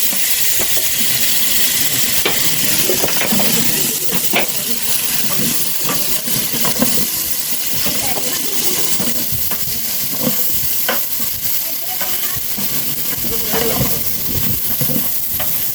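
About a kilogram of tomatoes sizzles and frying steadily in a large pot of dum biryani masala, a five-kilogram batch, with continuous scraping and stirring sounds running throughout at close range.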